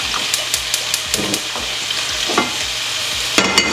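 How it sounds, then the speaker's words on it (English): Olive oil heats in a frying pan with a bright, continuous hiss, while regular sharp ticks sound close by and a louder clatter comes near the end. "I'm going to take right now some olive oil, put it in this pan right here."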